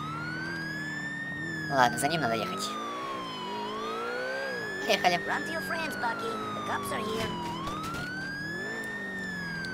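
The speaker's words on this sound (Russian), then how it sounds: "еще и сирену включил, молодец" Police car siren in the video game GTA IV wails up and down continuously through the whole stretch, with engine and traffic noise beneath and someone talking over it.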